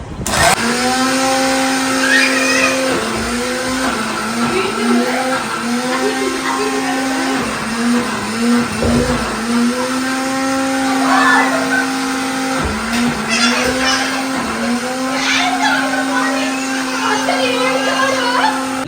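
A mixer grinder whirs loudly and continuously nearby while grinding leaves, its motor pitch dipping and rising in a few bursts, with some faint background voices.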